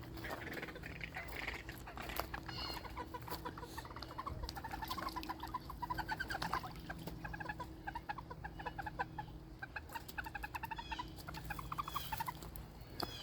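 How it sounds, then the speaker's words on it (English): A hen green-winged teal calls repeatedly among other ducks outdoors on a freezing winter pond, a busy run of faint quacking and chattering calls at moderate distance with no voices. "There's a hen green wing making noise."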